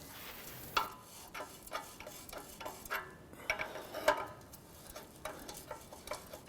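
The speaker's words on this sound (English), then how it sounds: "Using a 7/8 wrench or a 22 millimeter wrench, I'm going to go ahead and loosen our oxygen sensor here." A 7/8-inch wrench working an oxygen sensor loose on the exhaust of a 2006–2013 Chevy Impala, giving faint irregular metallic clicks and ticks close by, with no talk.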